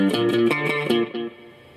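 An electric guitar played through a DigiTech RP500 effects unit gives a quick run of distorted, chorus-tinged notes, then one note rings out and fades with reverb, with no talking.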